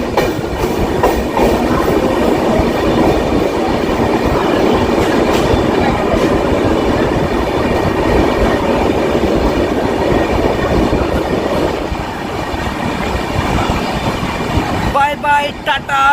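The Howrah to Puri Shatabdi Express runs out of Bhubaneswar with a loud, steady rumble and rhythmic clickety-clack of wheels on rail throughout, heard up close from aboard, with a brief rattling shift near the end.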